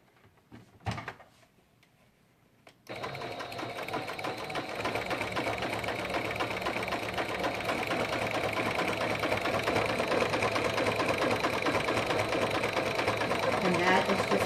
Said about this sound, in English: I'm going to sew a little bit like right in here